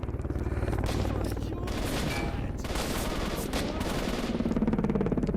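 Sustained gunfire in a video game running the Lost World mod, with rapid bursts and shots layered densely over a continuous background bed throughout, loud and close.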